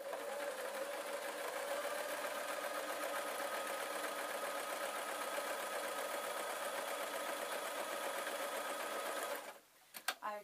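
Domestic sewing machine stitching the seams of a simple peg bag, running in one steady, close, continuous whir for about nine seconds before stopping abruptly near the end.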